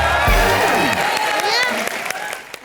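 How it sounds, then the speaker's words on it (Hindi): A studio audience at a live Colors TV comedy show breaks into loud, sustained applause with some cheering, the clapping filling the whole stretch while a voice speaks over it. "जोरदार तालियां अक्की बाबा के लिए, अक्षय कुमार के लिए"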